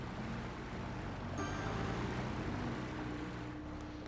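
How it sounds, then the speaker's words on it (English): A ferry engine in the city-building game Cities: Skylines drones steadily with a low, buzzing, mower-like hum beneath a wash of water and wind-like ambience, continuous and moderately distant throughout. "Honestly, the ferries sound like they've just got like a lawnmower engine in them or something."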